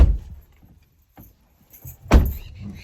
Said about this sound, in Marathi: दरवाजा लावती दरवाजा लावा